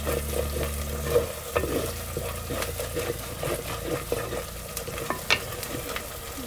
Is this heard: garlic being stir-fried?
yes